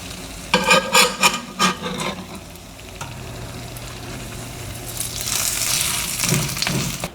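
A birria taco with Mexican melting cheese folded over cooks in a pan, with a burst of rustling, scraping handling sounds early on, then a steady close sizzle building toward the end.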